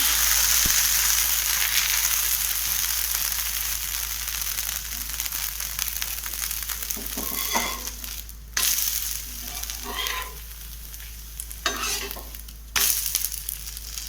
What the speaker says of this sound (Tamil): நல்லா குக்காயிடுச்சு தோசை. லைட்டாக திருப்பி போட்டு